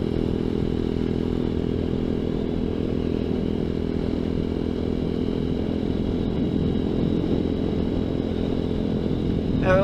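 A ZS190 Grom clone motorcycle on a ride, its small engine droning steadily at an even, moderate level throughout, with rattly clatter and no speech.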